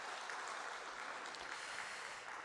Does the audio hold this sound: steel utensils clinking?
no